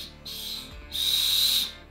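Two shrill, breathy whistle blasts, the second longer and louder, separated by a short pause.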